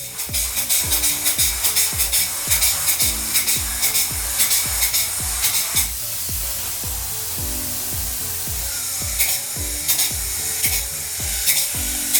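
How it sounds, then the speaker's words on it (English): A spray foam insulation rig hisses in long bursts in a garage, with a rhythmic mechanical thumping pump underneath that pauses midway, then resumes alongside renewed hissing. "so that Nash can start spray foaming"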